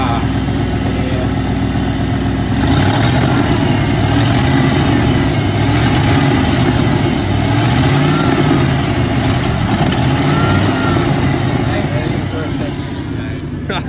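A 1995 Ford F-150 with a 302 V8 runs on a bad alternator, giving a loud, steady engine drone with a rough low rumble up close, while people talk over it throughout.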